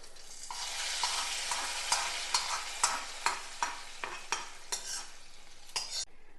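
Mustard seeds fry in hot oil for tempering, a bright crackling sizzle with a run of sharp pops and stirring scrapes at a fairly even pace, close and without talk, cutting off abruptly.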